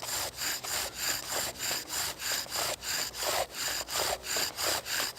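A bow drill spins against wood to make a friction fire, giving a steady, close, rhythmic rasping as the bow strokes back and forth about twice per second, with no talk over it.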